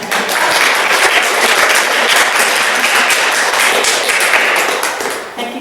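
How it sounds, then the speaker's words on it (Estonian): Audience applause at an artist talk with a writer moderating: dense, loud, steady clapping from a crowd that lasts about five seconds, then begins to thin out, with no talk over it. "Teeme igal juhul suure aplausi teile."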